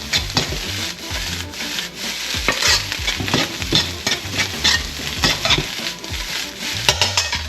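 Fried rice gets stirred in a hot pan, with continuous scraping and shuffling of the spatula over a bright sizzle, loud and close with no voices.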